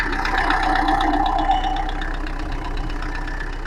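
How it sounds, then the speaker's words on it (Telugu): A Tata Indica V2 car, a non-accident vehicle with recently redone cylinder head work, idles with a steady, even engine hum close by, without voices. "ఒకసారి ఇంజన్ నాయిస్ వినండి."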